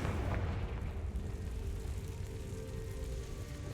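A Confringo blasting spell explodes in Hogwarts Legacy, a loud, dense rumbling blast that fills the opening and then lingers as a heavy low roar decaying over a few seconds, with no voices.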